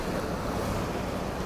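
A forest river runs past a small concrete bridge at a water crossing in the Cohutta Wilderness, Georgia, a continuous dense rushing roar close by, with no voices.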